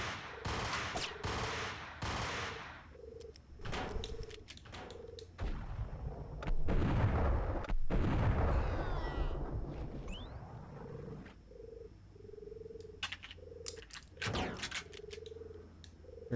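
Submachine-gun fire rattles in a video game, several rapid bursts and a long dense volley mid-clip, with a steady melodic tone pulsing in the background between shots.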